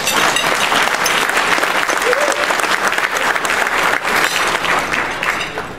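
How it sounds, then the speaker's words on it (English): Loud sustained applause from a crowd at a regional summit meeting in Cherokee, North Carolina, dense and continuous clapping filling the room for several seconds, easing slightly at the end. "Everybody give a round of applause to Bill Gibson"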